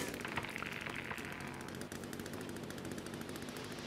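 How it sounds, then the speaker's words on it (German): A chainsaw saws through wood in the survival game The Forest, a steady, rattling, high buzz that runs unbroken for about four seconds with no voices. "So, ich säge mal auch hier rum."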